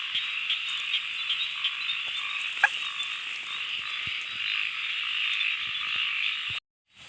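A steady, dense chorus of frogs croaking fills the air near a fence-building site, continuous and fairly loud throughout before cutting off abruptly at the end, with no one speaking over it.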